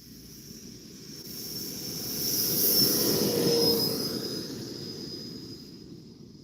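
An RC airplane passes close by with its flaps down, a steady motor whine that swells to a peak mid-pass and then fades, heard alone with no talking.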